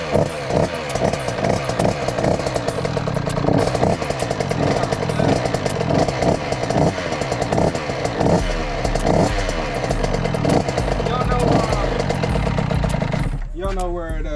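A Husqvarna 50cc dirt bike engine buzzes and revs close by with a rattling two-stroke drone, holding a busy, uneven pitch before cutting off near the end, while people talk over it.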